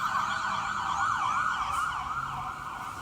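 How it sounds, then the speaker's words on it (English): A fire truck siren wails steadily, its pitch sweeping up and down in a continuous cycle as the truck passes by outside. Distant road noise sits underneath, and no one speaks. "I think it was a fire truck going past."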